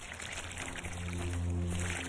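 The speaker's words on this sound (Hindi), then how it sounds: "मैं भी आज तुम्हें खूब पानी दूंगा, पेट भर कर पीना" Flowers being watered by hand. A steady, continuous pour of water splashes onto the plants, close and fairly quiet, with a low background hum beneath it.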